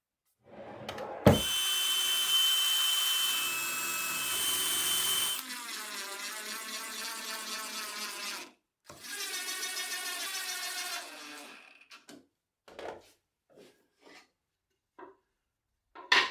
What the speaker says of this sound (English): I can add screws to reinforce the joint